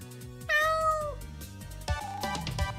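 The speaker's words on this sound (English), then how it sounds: "This is Echo the Space Cat." Space cat in the video game LunarLux gives two clear meows, a bright drawn-out one followed by a shorter second, over soft game music.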